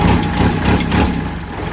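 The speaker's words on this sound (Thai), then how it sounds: "เดี๋ยวผมสิมาสตาร์ทเครื่องให้เบิ้งนะครับ" A Kubota L3608 tractor's diesel engine rumbles loud and close in a steady, low, throbbing run with no voices.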